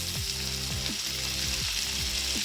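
Sliced capsicum sizzles in a pan with lightly sautéed garlic for white sauce pasta, a steady bright hiss of frying oil with faint low stirring knocks underneath.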